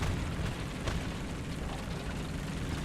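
A tank HESH shell explodes in War Thunder, a loud, dense rumbling blast that fills the moment with sustained roaring noise and no distinct voices.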